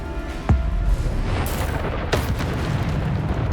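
Spell blasts from Bombarda in the open-world wizarding action game Hogwarts Legacy, two sharp booming bursts about a second and a half apart over a steady bed of game background noise.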